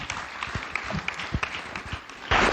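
Audience in a hall at a youth dialogue forum on the Kenyan coast clapping, scattered claps building into a dense burst of applause at the end.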